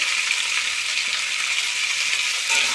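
Potatoes frying in mustard oil in a pan, a steady close hiss of sizzling that holds even throughout and swells slightly near the end.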